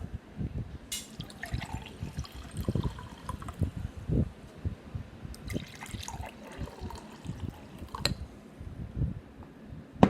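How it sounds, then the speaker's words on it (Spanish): Water is poured, splashing and trickling in uneven bursts, a close, lively liquid sound with occasional sharper drips, heard on its own without voices. "el agua es bastante sonora."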